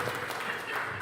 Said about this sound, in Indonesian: Tepuk tangan buat Pak Eko.